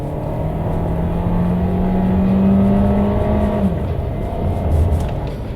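A 2020 Volkswagen Tiguan Allspace accelerates hard in sport mode with manual shifting, a steady close engine drone rising in pitch over several seconds, then dropping back as the revs ease, with no talk.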